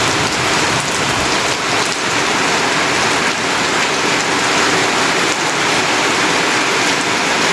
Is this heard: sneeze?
no